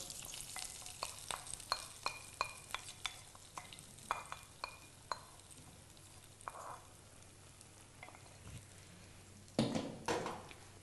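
A spoon stirs tempering into simmering potato and drumstick curry in a pan, giving soft, irregular scraping clicks and light bubbling, quiet and close with no talk.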